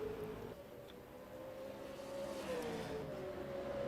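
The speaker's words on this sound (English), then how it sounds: "And we'll put the sound of the engines on as well. These wonderful V8 supercars." V8 Supercar engines in the rFactor 2 racing game at a Darwin circuit, a steady loud engine drone with a rising and falling pitch as the car runs a lap, with no talk over it.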